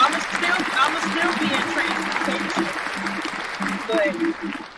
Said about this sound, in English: round of applause on that one